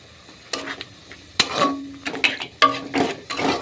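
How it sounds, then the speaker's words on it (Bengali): Water goes into frying onion and spices for a rohu fish curry, giving sudden sizzling hisses and splashes, along with the scrape and knock of stirring in a pan, close and fairly loud. "তরকারিটা হালকা কষার জন্য আমি দিয়ে দিচ্ছি এক কাপ পরিমাণ মতো জল"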